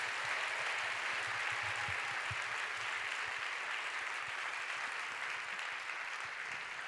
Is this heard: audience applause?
yes